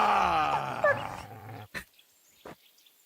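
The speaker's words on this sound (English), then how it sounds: "I didn't do anything. That was my dog." A dog in Kingdom Come Deliverance 2 gives a loud, close, drawn-out growling whine that wavers in pitch, followed by two short sharp thuds in near silence.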